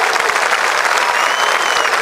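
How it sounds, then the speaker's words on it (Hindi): An audience at a world-record event claps loudly and continuously, with dense, close, even applause filling the whole moment. "तालियां बजा दें आशीर्वाद के लिए।"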